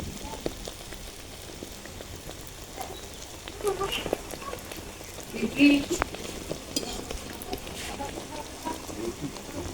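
Palm-fruit oil pitha cakes sizzle and bubble in hot oil, a steady crackling fry with occasional stirring clinks and louder spatters midway.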